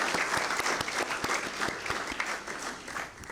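A modest crowd gives a round of applause at a Memorial Day breakfast, with individual claps distinct within a loose, uneven patter that fades somewhat toward the end.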